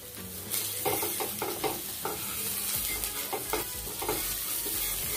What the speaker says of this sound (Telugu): కొంచెం ఆయిల్ తక్కువ వేసాం, లో ఫ్లేమ్ లో అందుకనే కుక్ చేస్తున్నా